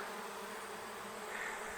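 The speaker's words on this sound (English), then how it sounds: "Here's where the swarm has started to settle." Swarm of honey bees settling near a hive, a dense continuous buzzing drone, steady and moderately loud, with no voices.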